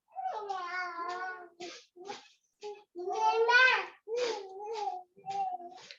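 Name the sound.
babies crying in the background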